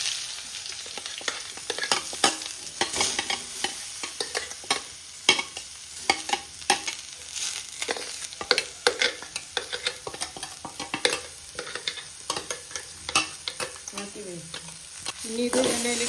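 Ground chammanthi chutney with curry leaves frying in oil and being stirred: a constant close sizzle broken by frequent quick scraping and tapping strokes of the spoon in the pan.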